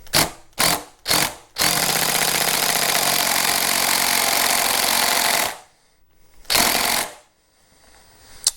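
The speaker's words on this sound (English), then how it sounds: "I'm just gonna try it with the hammer drill just to see if that kind of helps a little bit" Hammer drill working on a Pro Taper KLX handlebar install on a Honda Grom MSX125: three short revving bursts, then a long loud buzzing hammering run of several seconds, a pause, and one more brief burst.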